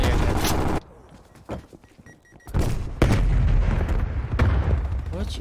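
Gunfire rings out in a Call of Duty Cold War 4v4 match: several loud, sharp shots and booms, separated by a quieter stretch, with a brief burst of rapid fire near the end.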